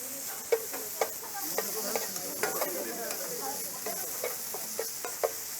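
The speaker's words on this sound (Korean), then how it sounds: "이렇게 해서 고기를 갖다가 살살살 볶아주세요." Meat stir-fried in a pan, gently tossed, producing a continuous bright sizzle close up, punctuated by irregular sharp clicks and scrapes of stirring.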